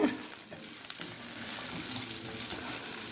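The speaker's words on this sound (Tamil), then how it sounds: "இப்போ நம்ம இதை வறுக்கலாங்க" Eggplant fries in sesame oil in a pan for Chettinad-style oil brinjal, giving a steady, close crackling sizzle with a faint stir or two and no talk.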